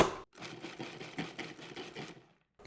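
Food processor pulsing a cup of pecans into a rough chop, a steady loud whirring burst of about two seconds with chopping rattle, starting after a brief pause and cutting off abruptly.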